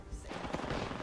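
Wingman pistol shots in Apex Legends crackle in a fast, dense burst of game gunfire, loud and continuous with sharp reports overlapping through the whole moment.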